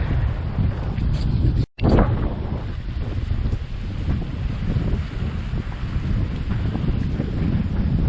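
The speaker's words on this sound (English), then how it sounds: "Kind of breezy, and not really any good place to go swimming because it's very, very rocky." Strong wind blows across the microphone at a rocky shore near a Grand Cayman resort, with a loud, steady roar and surf-like rushing. A brief dropout breaks it early on.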